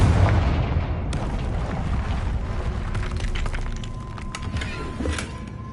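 A Confringo fire spell blasts in Hogwarts Legacy, a low rumbling explosion that fades into crackling debris and scattered sharp ticks over several seconds.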